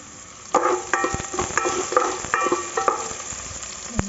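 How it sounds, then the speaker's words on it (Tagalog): Onion and garlic sautéing in a pan, with a steady sizzle broken by repeated scraping stirs of a utensil, close and moderately loud, with no talking. "Lalagyan natin yung sibuyas. Then mix natin yung bawang."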